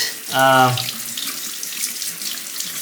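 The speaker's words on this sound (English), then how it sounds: "I'm just going to rinse off the stone real quick and turn it over" Tap water runs briefly over a Shapton 1500 sharpening stone being rinsed during honing, a short close splash under the faucet that fades into quiet room noise.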